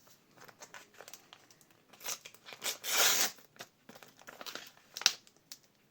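A small paper surprise packet is opened up close, giving soft crinkling and rustling in scattered bursts with a louder crumpling swell near the middle, quiet and without talk.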